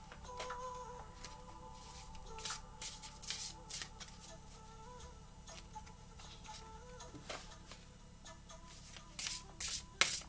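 Oracle cards are pulled and shuffled by hand, giving soft papery riffles and light flicks in scattered bursts that grow busier toward the end, close and fairly quiet, with no speech.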